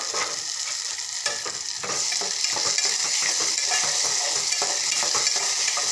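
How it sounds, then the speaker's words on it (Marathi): Finely chopped tomato added to softened onion in a pan and stirred, a constant close sizzle broken by spoon clinks and scrapes against the metal, with no talk. "मी आता टोमॅटो एक बारीक चिरलेला टोमॅटो सोडत आहे"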